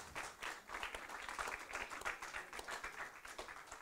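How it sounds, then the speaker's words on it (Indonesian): A studio audience claps for a guest, a vice dean of law, at a podcast recording on apostille legalisation. The applause is steady and fairly quiet, with dense overlapping claps and no voices, for about four seconds. "Boleh beri tepuk tangan ya."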